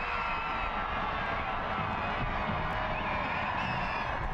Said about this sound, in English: A crowd pop